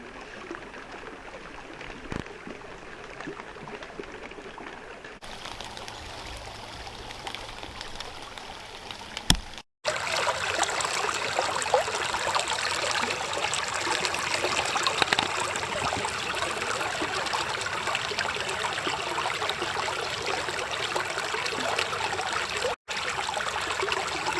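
A small stream trickles through a salamander habitat in Alabama, a continuous close babbling of running water that grows louder and fuller after a brief cut partway through, with no voices.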